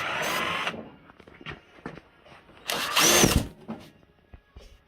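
Short bursts of a power drill whirring close by, interrupted by clunks and rattles of tools being handled while working on a 2003 Honda Rebel motorcycle carburetor.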